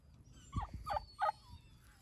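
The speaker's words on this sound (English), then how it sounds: "hey, turkeys, you're so pretty." Turkeys gobble close by, two quick rattling calls standing out over a soft low rumble, with no voices.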